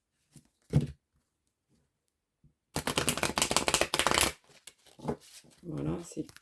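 Oracle or tarot cards being shuffled, a burst of rapid riffling flutter lasting about a second and a half after a few light taps, followed by someone speaking.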